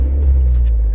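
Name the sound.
Honda Logo car driving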